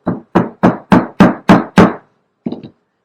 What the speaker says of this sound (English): What if I have to pound a natural bristle brush with a hammer?